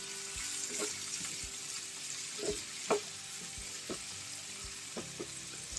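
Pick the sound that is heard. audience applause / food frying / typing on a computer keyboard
food frying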